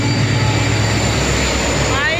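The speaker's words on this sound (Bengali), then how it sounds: "দেখো, আর একটা লাস্ট কি ট্রেন গেল" A train passes close by at a station, a loud, steady rumble and rolling roar filling the short moment, with a faint rising whine near the end.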